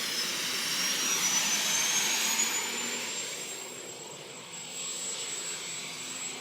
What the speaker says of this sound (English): you'll hear the burner start when the fuel gets turned in